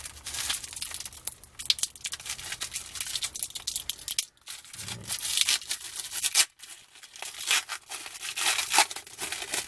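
Foil wrapper of a 1994-95 Stadium Club Series 2 basketball card pack being torn and crinkled open, a steady close rustling with brief pauses, no talking.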